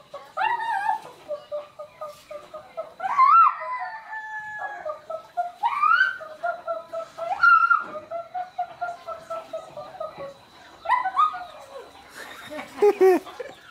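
A voice imitates a hen and then a rooster with a series of close, loud, strained clucks, squawks and crowing calls separated by short pauses, with other voices and speech around them.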